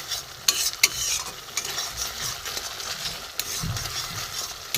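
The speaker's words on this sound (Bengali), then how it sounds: "মশলা বাটাটা পুরোটা দিয়ে দিলাম। একটু আমি কষবো এবারে।" Ground spice paste sizzles in oil while being stirred and worked with a spatula for a vegetarian egg-style dish, a constant frying hiss broken by a few sharp scraping clicks, close up and with no talking.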